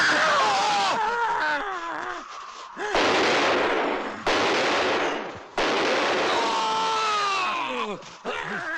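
Gunfire in a werewolf and yeti movie, several loud bursts of shots mixed with groaning and screaming voices, close and harsh in a dramatic film soundtrack.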